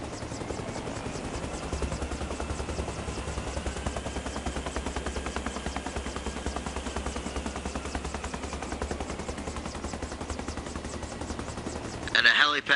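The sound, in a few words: helicopter flying in video game Arma Reforger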